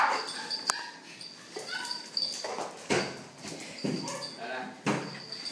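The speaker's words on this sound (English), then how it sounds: "super big dog at the vet" A big dog at a veterinary clinic, with short yips, whimpers and scuffling close by, heard alongside people talking in an echoey room.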